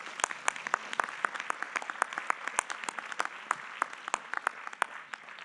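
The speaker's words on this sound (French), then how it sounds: "Bon, eh ben on peut vous applaudir." A small audience at an agricultural technology competition claps with scattered, uneven hand claps that carry on steadily for several seconds.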